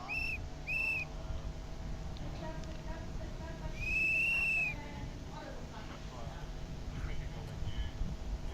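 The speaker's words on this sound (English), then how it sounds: "Just hearing the marshals' whistles blowing furiously in the background there." Marshals at a national rally stage blow shrill whistles, two quick blasts at first and a longer one later, fairly loud over a low outdoor rumble with faint background voices.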